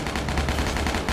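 Dense, continuous gunfire from the Kraven video game fills a brief moment, loud and steady throughout.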